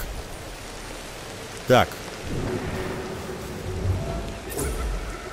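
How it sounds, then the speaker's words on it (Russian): Steady rain in the prehistoric survival game Ancestors: The Humankind Odyssey, a constant even hiss throughout with a brief louder thump partway in and a short spoken word over it. "Долбанный дождик."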